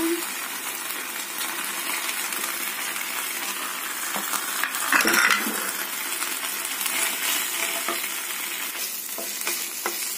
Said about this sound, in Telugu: మనం గోబీ ఫ్రై చేసుకున్నాం కదా వేసుకుంటాం